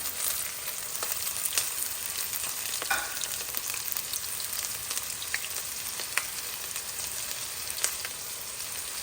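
Onions, green chillies and curry leaves fry in a pan for a fish curry, giving a continuous moderate sizzle with scattered crackles and faint stirring, no voices.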